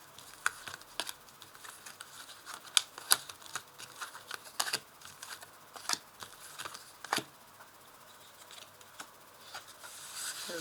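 Tarot cards are laid out one by one on a table, giving quiet papery slaps and light taps in an irregular rhythm, close and faint with no talking.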